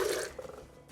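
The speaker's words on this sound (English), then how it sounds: "I'm gonna add 1 cup of that chicken broth." Chicken broth poured into a pan of green salsa sauce, a short liquid splash and trickle that is strongest at the start and then fades to a faint pour.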